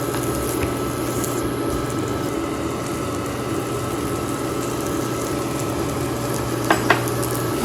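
A paratha fries on a pan with oil, butter or ghee, giving a steady low sizzle that runs throughout, with a couple of faint clicks near the end and no talking.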